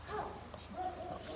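Puppies yip and whimper faintly in short high calls, low and close, with background noise.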